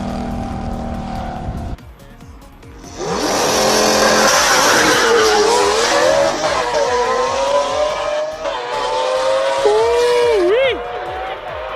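Lamborghini Aventador blasting up a hill-climb course at a Cape Town speed event, a loud rising engine howl with tire squeal after a quieter opening, pitch climbing and dipping through gear changes close by, announcer talk faint beneath.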